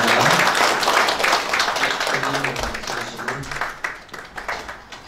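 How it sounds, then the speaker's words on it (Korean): Audience applause at a Korean peace ambassadors' council award ceremony, dense clapping that starts loud and gradually thins out over a few seconds, with a voice faintly audible underneath. "큰 박수 부탁드리겠습니다"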